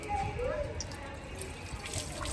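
Tap water runs steadily in a home, a continuous close hiss and splash at even loudness, with faint voices in the background.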